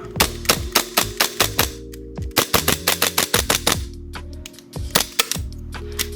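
Rapid bursts of sharp mechanical clacks from a gas Hi-Capa airsoft pistol dry firing, loud and close, in quick strings with short pauses between them.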